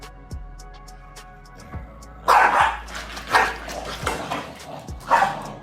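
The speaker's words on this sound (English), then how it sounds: "The pooch on the floor kicks off the argument with such a powerful yap" Two small dogs in an apartment, one on the floor and one atop a sofa, trade sharp yaps and barks, with loud bursts recurring every second or so after a quieter stretch of faint yips and rumbling.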